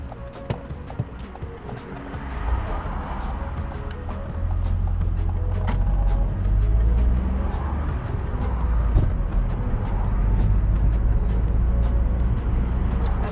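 A car on the move during a driving test near Wembley: a steady engine and road rumble with tyre noise, continuous and close from inside the cabin, growing louder after the first few seconds, with no talk.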